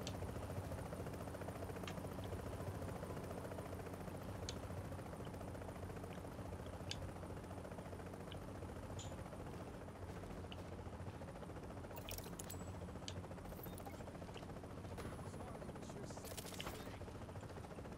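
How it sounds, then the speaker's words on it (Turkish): A helicopter landing in the video game The Division: steady rotor drone hums throughout, low and constant at moderate distance, with faint mechanical clicks and rattles near the end. "Evet helikopter iniyor."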